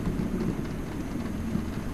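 Rain pelts a car during a heavy storm in an action film, a steady, dense hiss with low rumbling underneath, continuous and fairly loud, with no voices.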